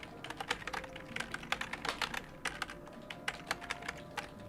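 A computer keyboard clatters as a folder name is typed, quick irregular bursts of keystrokes, close and moderately quiet, with no talking.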